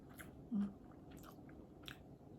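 Someone eats a piece of cheap sushi, likely tuna, with a single close, soft bite and quiet chewing over a faint room background; no talking.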